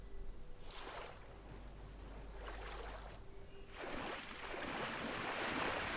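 Rushing water of a waterfall in the video game BitCraft Online, a constant broadband wash with brief splashy swells that grows louder and denser toward the end, with no voices over it.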